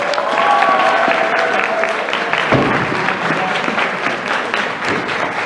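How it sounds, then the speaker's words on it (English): Convention audience at an anime event in Minneapolis claps in steady, broad applause, fairly loud and continuous throughout, with faint crowd murmur and a few whistles or cheers underneath. "give yourself a round of applause."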